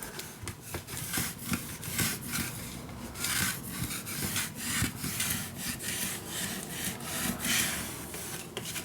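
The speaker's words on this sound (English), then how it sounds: "I'm just gonna burnish it down with a bone folder to burnish your glue down." Bone folder burnishing glued paper on a scrapbook album, a close, steady scraping rub repeated in quick back-and-forth strokes with no talking.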